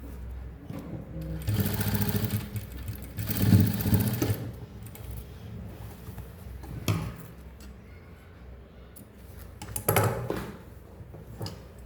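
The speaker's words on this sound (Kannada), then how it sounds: "ಇದ್ರ ಮೇಲೆ ಟಾಪ್ ಸ್ಟಿಚ್ ಒಂದು ಬರಬೇಕು ಇಟ್ಕೊಂಡು ಟಾಪ್ ಸ್ಟಿಚ್ ಹಾಕ್ಬಿಡೋಣ" A sewing machine runs top-stitching along a coat collar, its motor whirring in several bursts of varying length separated by brief pauses, close and fairly loud with no talking.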